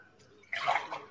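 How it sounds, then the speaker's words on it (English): Chicken broth pours from a can into a measuring cup, a brief close splashing gush of liquid that swells and then trails off. "So I'm going to take some chicken broth from the can, pour that in my measuring cup."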